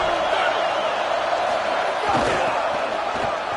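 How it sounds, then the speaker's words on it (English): Loud, dense roar of a full football stadium crowd, a continuous wall of cheering and shouting that stays sustained and close throughout. "This crowd, full throat, splitting the eardrums"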